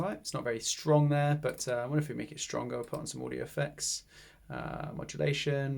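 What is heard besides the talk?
No everyday noise stands out behind the speech.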